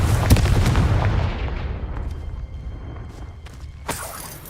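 Confringo spell explosion in Hogwarts Legacy, a heavy booming blast with a rumbling, crackling decay, followed by smaller impacts and a final sharp burst.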